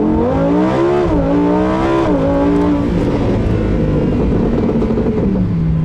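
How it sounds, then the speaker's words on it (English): A 2018 Lamborghini Huracan Performante launches hard under launch control, its engine roaring loud and close as it climbs through rising gear pulls with brief dips at each shift. "that is the most violent launch control I've ever felt in my life"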